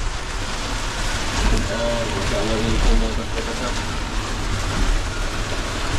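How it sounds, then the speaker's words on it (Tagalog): Dense, steady roar of heavy rain mixed with gusting wind out at sea, with a person talking faintly underneath in the middle. "Sobrang lakas ng hangin. At ano ulan, hangin."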